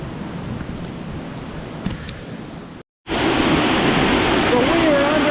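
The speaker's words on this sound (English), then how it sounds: "So right now it is starting to rain pretty good right here." Heavy rain falls as waves crash close by at a beach resort in Cabo San Lucas during Hurricane Olaf, a dense, steady roar that drops out briefly and then returns louder.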